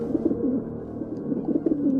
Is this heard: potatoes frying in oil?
no